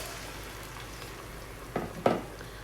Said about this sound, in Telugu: ఇప్పుడు నేను మామిడికాయ పప్పును యాడ్ చేస్తున్నానండి.